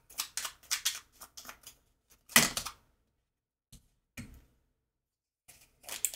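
Tarot cards being shuffled and handled during a reading, producing quick papery flicks and slaps up close, with one louder card snap and scattered soft taps amid silences.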